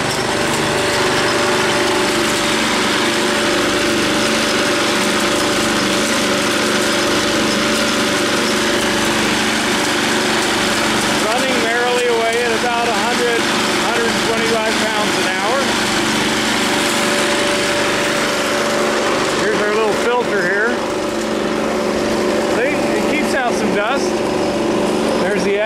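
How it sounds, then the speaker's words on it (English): An ore-processing impact mill runs with a loud, continuous mechanical roar and hum alongside engine drone, steady throughout with occasional rattling bursts. "here's the impact mill."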